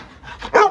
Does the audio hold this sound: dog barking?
yes